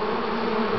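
Bees swarming close around a beekeeper's head during a honey harvest, a dense, continuous near buzz filling the short moment with no talking.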